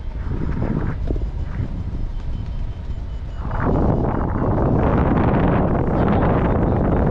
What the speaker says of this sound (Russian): Ветер сильный.